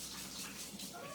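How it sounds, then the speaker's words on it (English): Hands rinsed under a running tap in a home kitchen while flatbread is being made, a short steady wash of water that stays fairly soft and even throughout. "I'm gonna just rinse my hands"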